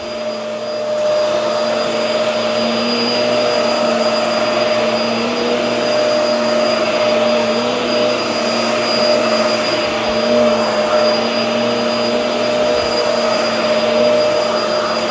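A Hoover WindTunnel All-Terrain vacuum cleaner running with a steady, loud motor whine and whoosh of airflow, holding constant for the whole stretch, near, with no voices.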